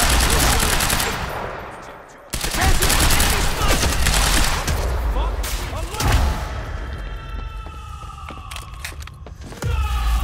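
Video game gunfire rattles in sustained automatic bursts during an escape through an R&D facility garage, loud and close, with a brief drop near the start and sharp single shots and debris later on.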